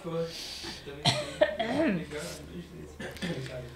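A person coughs to clear the throat, one sharp rasping cough followed by some throaty vocal sounds and murmured talk.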